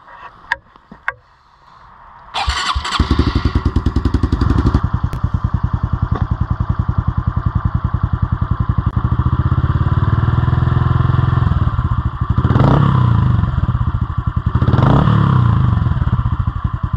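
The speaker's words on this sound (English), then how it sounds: "Let's fire it up, hear what this pro circuit pipe sounds like." A 2022 Honda CRF110 dirt bike with a Pro Circuit T-6 exhaust and tuned ECU cranks and fires up after a few clicks, then settles into a loud, rapid, close idle with two sharp throttle blips near the end.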